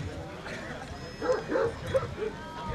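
Dog at a dog show, a few short close yips and barks over a noisy crowd, with a person talking at the same time.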